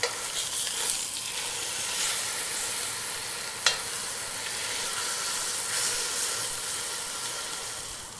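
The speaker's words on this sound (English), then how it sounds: "Once the meat starts to pull away from the bottom of the pan is when you generally want to start to flip." Pieces of pork shoulder sear in a hot pan with a loud, constant sizzle and hiss, close up and steady throughout, with one brief clink partway through.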